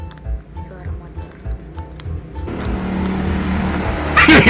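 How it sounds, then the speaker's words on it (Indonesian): A motorcycle engine rumbles low, then swells into a louder passing roar, with people talking over it throughout. "Suara motor."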